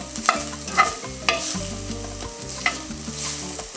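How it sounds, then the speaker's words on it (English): Chile sautéing in a pan for elote soup, a soft steady sizzle with repeated stirring scrapes and light clinks of the utensil at a close, moderate level. "And I'm gonna saute this just lightly for just a couple of seconds."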